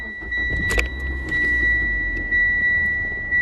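A manual car's engine turns over and catches, settling into a steady idle with a high electronic whine running throughout; a brief rattle near the start.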